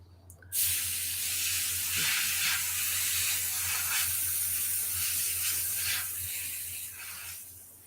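An airbrush sprays paint onto a sci-fi scale model in a continuous close airy hiss lasting about seven seconds, starting with a sharp onset, over a faint low hum.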